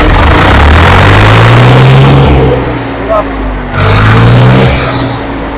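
A loud Ford tractor engine rumbles and revs close by, the pitch rising and falling as it throttles, with a person talking over it.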